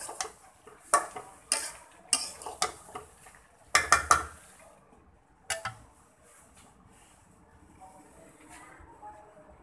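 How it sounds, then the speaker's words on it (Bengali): Food being stirred and sautéed in a pot during home cooking, with a series of sharp metallic scrapes and clinks from a spoon against the pot, clustered in the first half and then sparser, over a quiet background. "ভালো করে কষিয়ে নিচ্ছি"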